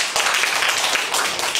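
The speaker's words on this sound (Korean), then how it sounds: "박수 한번 쳐주세요." A church congregation claps together during a Korean worship service, a dense, steady burst of many hands close by, lasting under two seconds.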